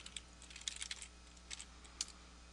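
A computer keyboard is typed on in quick, light clusters of soft key clicks, close but quiet, with short pauses between bursts and no voices.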